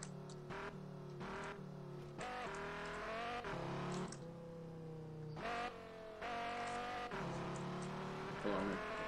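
A Dodge Viper racing in the video game Auto Club Revolution, its engine revving up and down through gear shifts with tire squeal, steady and close throughout.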